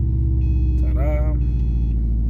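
A 2011 Subaru STI engine idles close by with a steady, deep rumble throughout, and a brief voice-like sound rises over it midway.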